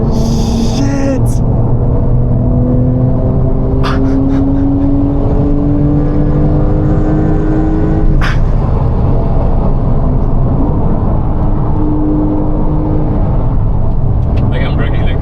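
A Chevrolet Camaro ZL1 is driven hard on a race track, with its engine revving loud and close from inside the car and climbing through gears in repeated rising sweeps, plus sharp shifts and a few people talking over it.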